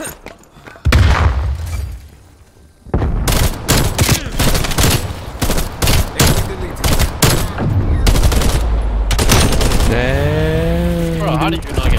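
AK-47 gunfire in Black Ops Cold War: loud bursts of rapid automatic shots repeat over several seconds, broken by a brief pause, with heavy booming impacts and a voice briefly speaking over the fire.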